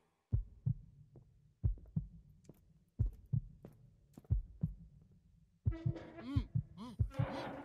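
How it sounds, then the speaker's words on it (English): A slow, thudding heartbeat in a song, with paired low beats repeating at a steady pace, later joined by louder music. "talking about the art of the heart and now the heartbeat"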